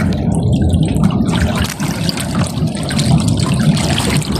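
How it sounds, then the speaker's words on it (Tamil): Water flowing along a village irrigation canal, a steady close trickling and gurgling that runs continuously with no voices. "பார்த்தீங்கன்னா வாய்க்காலில் தண்ணி போய் கொண்டிருக்கு"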